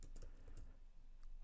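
Rapid, uneven keystrokes on a computer keyboard while code is typed, close and clear over a low steady hum, with no talking.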